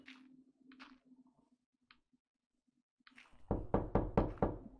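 Knocking on a door in a Minecraft game arrives as a rapid run of five or six loud, hollow knocks after quieter scattered clicks and a low hum.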